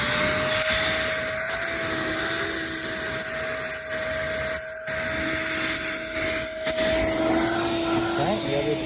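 A pump running while a garden pond is cleaned gives a loud, continuous whining roar with a steady tonal hum throughout, close by, with occasional faint talk underneath.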